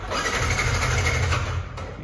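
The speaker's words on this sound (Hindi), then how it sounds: "और ये मोटरसाइकिल प्यार से स्टार्ट हो जा" A motorcycle engine starts and settles into a loud, steady, close rumble for about two seconds, easing off slightly near the end, with no voices.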